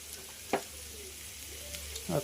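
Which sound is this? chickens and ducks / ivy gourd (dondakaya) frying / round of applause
ivy gourd (dondakaya) frying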